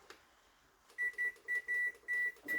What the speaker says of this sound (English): we're going to set our timer